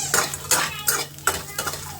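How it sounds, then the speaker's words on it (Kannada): Fries get mixed in a pan with a utensil, a rhythmic series of close metallic scrapes and clanks repeating about every half second over a low steady hum. "ಫ್ರೈಸ್ ಹಾಕ್ಕೊಂಡು ಮಿಕ್ಸ್ ಮಾಡ್ಕೋತೀನಿ."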